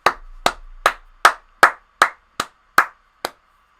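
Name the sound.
one person clapping hands, round of applause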